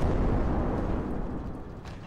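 A bomb explodes in a video game, a short, dull boom with a rumbling tail that fades over about two seconds, heard alone.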